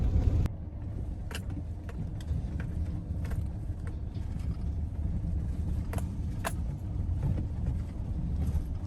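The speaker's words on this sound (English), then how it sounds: "I'm about to pull up to this rental pickup" A garbage truck idles and rolls slowly toward a rental dumpster pickup in a tight trailer park spot, its engine rumbling steadily and close throughout, with faint rattles and clanks over the low drone and no talk.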